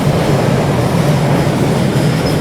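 A train rumbles loudly and steadily past close by, with a dense, continuous roar of wheels on rails.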